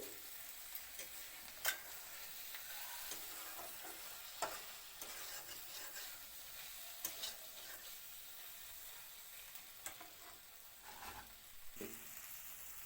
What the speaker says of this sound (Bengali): এবার দিয়ে দিলাম ভাজা করা মাছগুলি